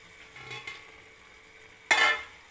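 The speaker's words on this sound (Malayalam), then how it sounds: "നമുക്ക് കറിവേപ്പില ഇട്ട് കൊടുക്കാം" Curry leaves drop into a hot pan of curry and give a sudden short burst of sizzling and spitting, preceded by faint stirring clinks in a quiet kitchen.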